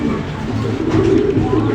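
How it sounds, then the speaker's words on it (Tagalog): A pigeon perched on an outdoor antenna gives a low, steady cooing, close and fairly loud, over a rumbling background. "magiging problema nga natin ang ibon na ito guys, na laging dumadapo dito sa antena"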